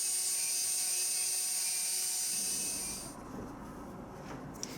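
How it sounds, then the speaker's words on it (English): A Dremel rotary tool whines at high speed while deepening a hole, running steadily and loud for about three seconds before spinning down and stopping, leaving quiet room noise with a faint click. "Now let's get that Dremel back out"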